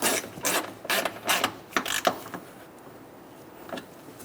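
Hand ratchet snugging a knock sensor on a 1999-2006 Chevrolet Silverado 1500 4.3L V6, a series of sharp close clicking bursts in uneven strokes, then tapering off into quiet.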